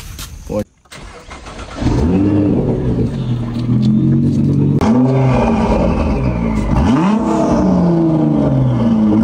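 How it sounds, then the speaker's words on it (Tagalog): Sports car fitted with a limited-edition HKS 40th anniversary exhaust and HKS air intake, revving hard and loud and close from about two seconds on, with pitch rising and falling through several throttle blips after a brief quiet start, while someone talks over it. "Ang exhaust naman ito, HKS 40th anniversary, limited edition."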